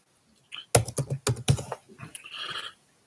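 Keys clatter on a computer keyboard in quick bursts of typing, close and fairly loud, with a short pause and softer clicks near the end.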